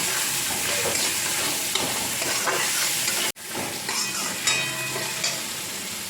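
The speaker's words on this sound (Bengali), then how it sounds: "কাঁচা আম টুকরো করা ছোটো ছোটো টুকরো করা কাঁচা আম এবার একটু ভালো করে কষিয়ে নেব" Small green mango pieces sautéing with katla fish curry in a pan give a steady, close, loud sizzle and hiss, with stirring scrapes and one brief break partway through.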